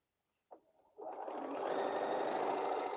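A domestic sewing machine chain piecing quilt pieces starts after a brief bump, then runs steadily and loudly, a continuous fast stitching whir with no talking.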